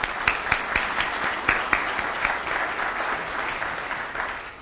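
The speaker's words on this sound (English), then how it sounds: "A little round of applause" Applause at a green infrastructure leadership gathering as council members stand, an audience clapping in a steady, dense patter with a few sharper claps near the start, fairly even throughout.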